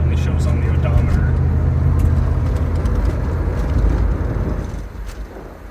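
A 1993 Callaway C8 SuperNatural Camaro on the move, its engine droning loud and close from inside with steady road rumble, easing off toward the end.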